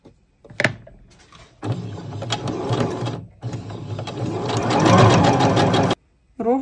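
A sewing machine stitches along a seam edge with an edge-guide presser foot, making two sustained runs of rapid mechanical clatter separated by a short pause, close and clear.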